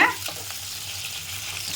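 Steady sizzling of shallots sautéing in hot oil for a fish curry, a soft hiss close by with a brief clatter at the start.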